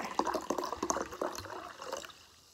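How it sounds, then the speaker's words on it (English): Sparkling water poured into a glass fizzes and crackles with escaping gas, a busy close hiss of popping bubbles that slowly fades over a couple of seconds. "Can you hear the gas escaping?"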